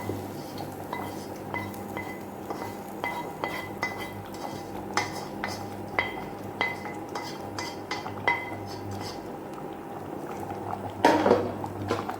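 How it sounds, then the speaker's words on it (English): Fried ingredients dropped into a pot of mutton dalcha and stirred, giving repeated metallic clinks and scrapes of a spoon against the pot over a soft bubbling background, up close, with a louder clatter near the end. "now I'm going to drop in all these fried ingredients into it."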